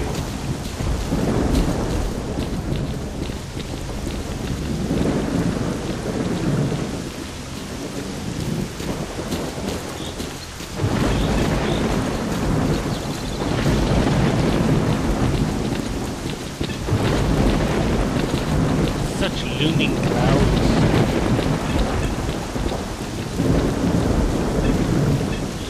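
A thunderstorm in the video game STALKER Clear Sky, with steady rain pattering and heavy rolls of thunder rising and swelling several times over a long stretch, loud and close, with no voices.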